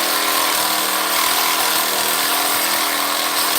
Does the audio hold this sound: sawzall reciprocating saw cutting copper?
yes